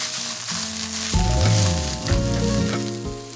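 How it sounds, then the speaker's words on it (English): Pad kra pao with basil stir-fried in a hot pan, a loud continuous sizzle swelling and easing as the food is tossed, with no talking. "add in the basils. Give it a few stir and it's done"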